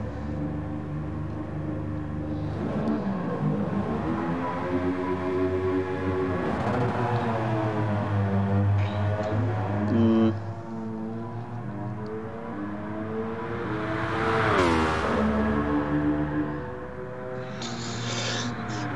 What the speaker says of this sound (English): It sounds like a generic Gran Turismo car to me.